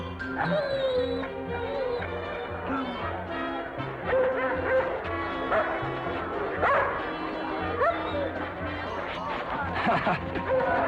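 A sled dog barks repeatedly during a weight-pulling contest, the sharp yelps and woofs coming in bursts over steady crowd noise while people talk and call encouragement throughout.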